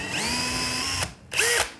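A power drill bores out a small hole in a 4L60E automatic transmission valve body with a steady, close, high whine, then pauses briefly and starts again for a shorter burst.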